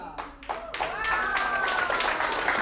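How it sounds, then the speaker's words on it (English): An audience at a parlour magic show claps after a trick, a warm wave of applause that builds and holds steady. A voice speaks briefly at the start. "Give John a round of applause"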